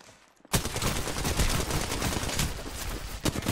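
Gunfire in the Apex Legends video game, played as Crypto: after a brief quiet start, loud, close and continuous rapid bursts of weapon fire keep going to the end without a break.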